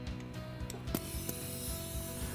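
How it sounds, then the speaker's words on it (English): A pressure gauge is fitted onto the adapter of a pressure loss testing kit, giving close, scraping metal clicks and ratcheting rubs over a steady background hum. "Now we connect our prepared pressure gauge to the adapter."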